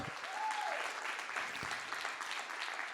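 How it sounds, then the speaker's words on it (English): A church audience claps their hands in sustained, dense applause that fills the room at a steady level, with a few voices mixed in. "Come on, keep on clapping."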